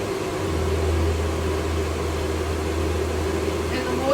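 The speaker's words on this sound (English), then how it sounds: "you can now use your hands-free dryer" A hands-free dog dryer blows a steady, loud stream of air throughout, with a constant motor hum beneath the rushing airflow while a dog's coat is combed.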